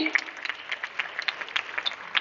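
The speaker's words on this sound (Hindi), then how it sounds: "जोरदार तालियां हमारे सभी मेधावियों के लिए" Thin, steady clapping from an audience at a student awards ceremony in Uttar Pradesh carries on for a couple of seconds, slightly distant and fairly faint.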